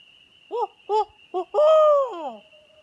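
A human voice imitates an owl in a forest during a turkey hunt: three short hoots, then a longer drawn-out wavering hoot, loud and close over a steady high background hum.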